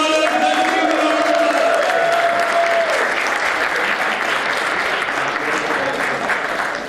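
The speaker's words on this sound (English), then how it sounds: "Let's give him a round of applause." A large audience claps loudly and continuously at an award event, a dense, sustained wash of applause with a few voices rising briefly over it early on.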